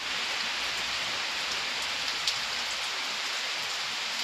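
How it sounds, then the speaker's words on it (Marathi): Steady rain in Dev Dahifal, Dindrud, in Beed district falls as an even, dense hiss of drops, with one brief sharper patter, and no voices over it. "सकाळपासून पाऊस चालू आहे."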